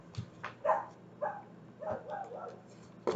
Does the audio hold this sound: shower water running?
no